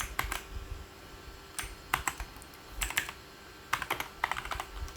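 Fingers type a column name on a computer keyboard in brief clustered bursts of crisp, close key clicks separated by short pauses.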